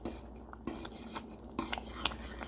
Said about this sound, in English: Stirring it, trying to take any lumps out